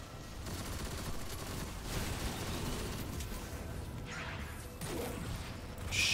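Sustained LMG fire in Destiny 2, a dense, continuous rattle of automatic shots lasting several seconds with a few sharper bursts and swooshes near the end, loud and steady with no talk.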